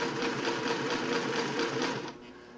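A Singer 600E sewing machine runs a straight stitch, giving a close, rapid, even mechanical chatter that cuts off just before the end.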